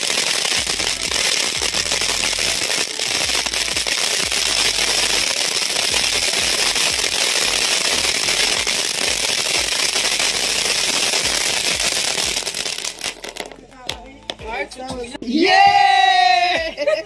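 An anar fountain firecracker lit during a Karva Chauth celebration gives off a loud, steady hissing crackle for about thirteen seconds, then cuts off as people shout and talk nearby.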